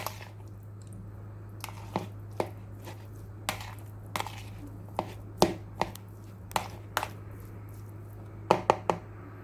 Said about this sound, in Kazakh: Араластырамыз жақсылап.